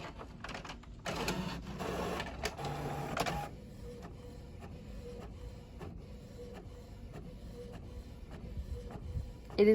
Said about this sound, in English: It is a nice quiet printer.